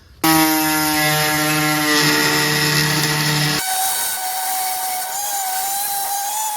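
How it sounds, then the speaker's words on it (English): High-pitched tool whine close by that holds steady for about three seconds and then cuts off abruptly, leaving a fainter thinner tone, as a miniature powered saw blade slices a steel roll pin on a Crown Victoria fuel tank strap. "This miniature blade really is nice because it gets in there to slice that roll pin."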